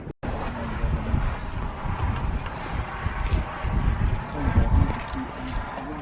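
Gusty wind blows steadily outdoors in cold Reykjavik, Iceland, a loud rumbling buffet on the microphone that rises and falls throughout with no talking.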